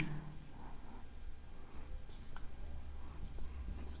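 Someone writes answers for a science model paper in a faint, steady scratching of pen strokes, soft and close, with no talking.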